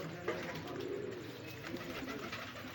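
Pigeons, including a pink teddy pigeon, coo softly in a loft, with low murmuring calls repeating over a faint, noisy background.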